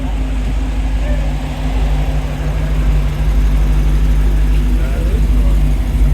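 A pickup truck engine rumbles steadily as it cruises past at a Cars & Coffee show, a loud low drone with a constant hum and a voice talking over it.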